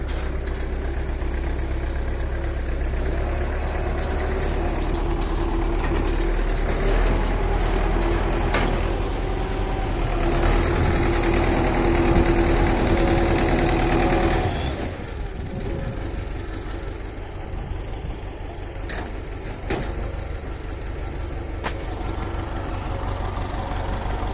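A CLAAS Dominator 86 combine harvester engine runs loud and close, a heavy steady idle with a rough knocking throb that drops slightly in level midway and carries on.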